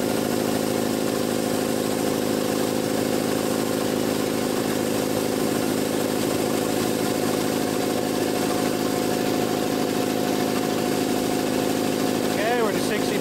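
A Jenny air compressor runs continuously while building pressure, a steady mechanical motor drone with a constant hum and no break, loud and close.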